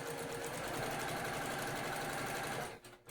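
A sewing machine stitches with cotton thread in a fast, even mechanical hum that runs steadily and close, then stops abruptly near the end, with no voices.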